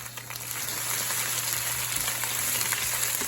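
Baby spinach sizzles and crackles in a hot pan, a dense frying hiss that swells and stays steady at close range for a few seconds, with no talking.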